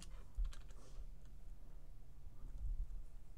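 Soft, rapid key clicks from a computer keyboard tap away in a quiet room, faint and continuous, with no one talking.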